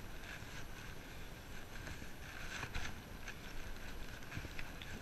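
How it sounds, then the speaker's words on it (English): Steady headwind buffeting the microphone of a rider on a Felt Nine 80 bicycle at the Meadowlands in New Jersey, a constant broadband roar with gusts swelling around the middle, no voice over it. "It's windy out."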